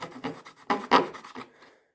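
A serrated edge saws back and forth to widen a gap while adapting a case for an Estwing rock pick hammer, making close, dry rasping strokes in short uneven bursts that fade out at the end.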